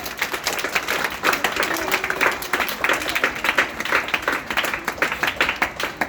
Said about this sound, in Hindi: इस बात के लिए तालियां बजाइए जोरदार।